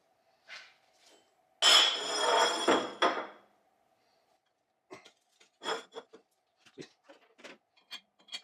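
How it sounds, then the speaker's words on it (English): Wheel studs tapped through the hub of a 1998 GMC K3500 dually brake assembly: a burst of scraping and knocking, then a series of sharp, separate metallic taps spaced irregularly, close and fairly loud, with no talk. "I'm going to block this guy back up and tap those wheel studs through"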